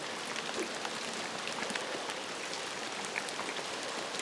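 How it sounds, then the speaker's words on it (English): Hail and heavy rain pelting down during a summer rainstorm at a reservoir, a dense steady hiss of impacts with scattered sharper ticks, constant and close throughout. "Yes, it is hailing."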